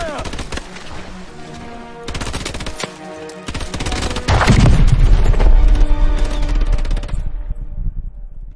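Dense gunfire and explosions from the Call of Duty Infinite Warfare video game: rapid automatic bursts and a heavy boom under a continuous battle din, with voices amid the fighting.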